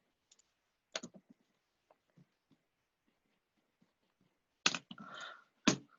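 Typing on a computer keyboard, heard as a few quiet, scattered key clicks with a short cluster of louder taps near the end, close by and without talk.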